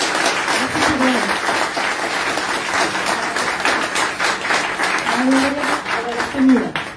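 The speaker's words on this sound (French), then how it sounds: "Je vous demande de l'applaudir bien fort" A crowd at a live mediumship event gives steady, loud applause for a visiting medium, clapping continuously for several seconds while a few voices sound faintly underneath.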